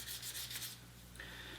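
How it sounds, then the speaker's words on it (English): Folded sandpaper rubbed along the side of a guitar headstock while stripping its paint, a soft, steady, close scratchy rasping that stops partway and then resumes. "a really good way of sanding the sides of the headstock is to have your paper folded twice"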